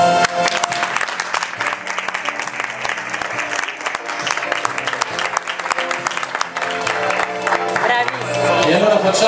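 Audience applause at a live singing event in Italy, a dense, steady clapping from a crowd that holds for the whole stretch and swells slightly toward the end, with some voices mixed in.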